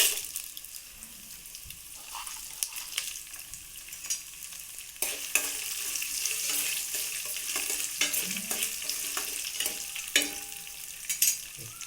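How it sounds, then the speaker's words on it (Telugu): Dried red chilies frying in hot oil for a tempering of seasoning, a steady, fairly quiet sizzle with occasional spatter pops and light stirring, growing slightly brighter partway through. "ఇందులో ఎండుమిరపకాయలు వేసుకుందాము."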